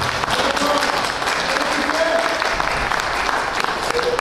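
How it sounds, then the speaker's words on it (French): An audience applauds loudly and steadily at a town hall gathering in Chamboulive, dense clapping filling the whole stretch with no letup. "J'aimerais qu'on l'applaudisse très très fort."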